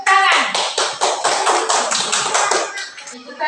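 A classroom of students clapping hands together in a quick, loud, rhythmic burst of claps close by that tapers off.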